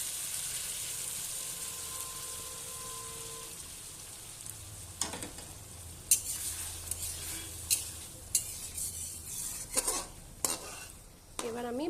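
Bengali fish curry cooks in a pot after hot water is poured over the browned fish. A soft, low bubbling runs throughout, and later a few sharp clinks of a utensil against the pan cut through. No one speaks.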